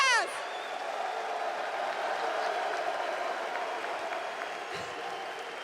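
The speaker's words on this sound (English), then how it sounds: "un tonnerre d'applaudissements pour vos champions" A large arena crowd at a Call of Duty League Major final applauds and cheers steadily, a dense wash of clapping that swells at the start and then holds level.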